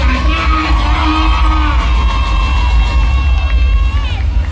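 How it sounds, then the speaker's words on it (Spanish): A packed concert crowd in New York cheers, whoops and yells in a dense, steady roar that holds loud from start to finish, with no clear break. "Yo quiero que me le den un aplauso a esta señora"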